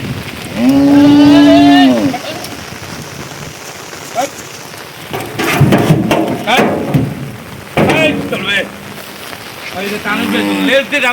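A large young milking cow moos loudly nearby, a long low call, with another moo near the end; people talk in between amid outdoor background noise.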